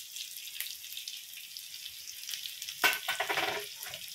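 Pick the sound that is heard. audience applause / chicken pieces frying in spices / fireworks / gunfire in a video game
chicken pieces frying in spices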